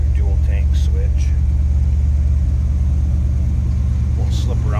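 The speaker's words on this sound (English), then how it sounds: "See how easily it starts. Idle's nice." A 1979 Chevrolet Silverado C20 Camper Special pickup engine idles in a steady, loud, low rumble throughout, close by, with someone talking briefly over it.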